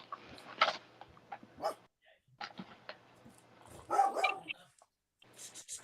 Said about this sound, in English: look at my dog